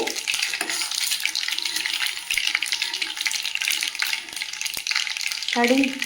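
Mustard seeds splutter and crackle in hot sesame oil for a small gooseberry pickle, a dense, steady, close sizzle of rapid pops running throughout with no voices.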